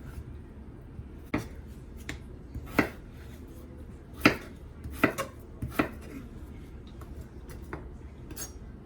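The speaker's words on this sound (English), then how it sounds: "let's go ahead and chop up your carrot" A knife chopping carrot and potato on a cutting board: a slow, irregular series of distinct sharp knocks close by, separated by short pauses, with no talking.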